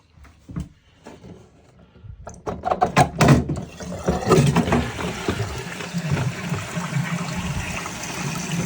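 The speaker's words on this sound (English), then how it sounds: "Because it's flushing for a long time, but it's not quick" A household toilet flushes through its flush valve with an adjustable flow slider, starting with a few faint clunks, then swelling into a long, steady rush of running water that carries on at even strength to the end, with no talk.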